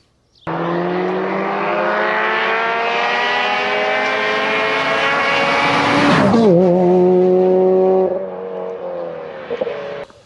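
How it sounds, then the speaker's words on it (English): A first-generation Skoda Fabia vRS diesel hot hatch from 2002–2007 drives past loudly, its engine note rising steadily for several seconds before a sharp shift and a lower sustained drone that fades slightly at the end. "this first generation Skoda Fabia vRS, built between 2002 and 2007"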